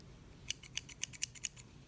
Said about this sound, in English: This is actually scissors.